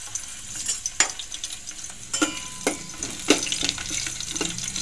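Garlic fries in oil for a dal tempering, giving a continuous sizzle broken by several sharp spatters and crackles, with stirring scrapes in between.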